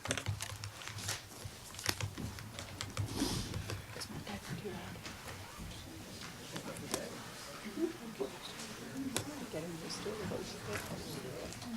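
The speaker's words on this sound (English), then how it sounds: "Do you think my typing's too loud?" Rapid clicking of keys on a computer keyboard during a city council meeting, close and fairly quiet, in irregular bursts against a faint room background.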